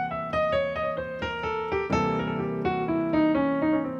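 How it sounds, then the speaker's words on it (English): A solo piano plays a quick turn ornament, circling a scale tone in a short run of close, evenly paced notes that ring together under sustain, with no voices. "A turn sounds like this."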